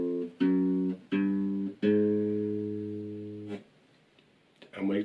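Guitar notes played one after another in a slow beginner finger exercise, each ringing and decaying clearly up close, then followed by a brief further sound.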